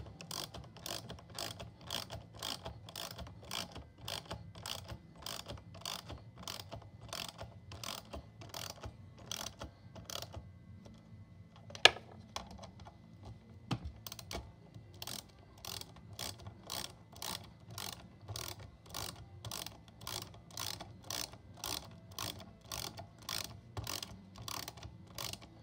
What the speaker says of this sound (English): I'm going to take my ratchet and I'm going to finish these screws off.